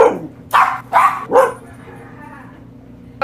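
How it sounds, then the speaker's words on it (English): Several dogs bark in three or four quick, loud, close barks early on, then fall quiet, leaving soft background noise. "The dogs are going crazy."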